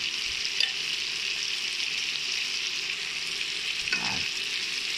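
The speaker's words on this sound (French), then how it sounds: "وفي مقلاة نقلي أطراف السومو أو سمك السومو" Salmon pieces fry in a pan with a constant bright sizzle and crackle, steady and close, broken by a couple of brief soft knocks, with no talking.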